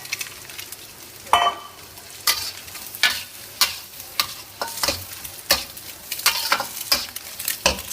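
Vegetables tossed into a hot wok for egg fried rice sizzle under a soft frying hiss, punctuated by a regular series of sharp scraping stirs and tosses.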